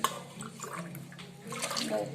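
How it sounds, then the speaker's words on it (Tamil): Water is poured from a tumbler into measured rice for venpongal, giving a sloshing, splashing stream in short bursts in a home kitchen. "எந்த டம்ளர்ல அரிசி அளந்தோமோ அதே டம்ளர்ல எடுத்துட்டு தண்ணி ஊத்துறேன்"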